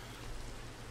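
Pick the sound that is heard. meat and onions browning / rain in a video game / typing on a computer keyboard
rain in a video game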